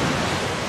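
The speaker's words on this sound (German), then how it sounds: "Oh, jetzt schön durch den Wasserfall." Vehicle driving through a waterfall in Uncharted 4, a loud, steady broadband rush of pouring water that fills the whole clip, with no talk.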